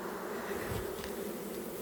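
A close, continuous buzz of honey bees hums steadily, with individual bees droning past the microphone, no voices present.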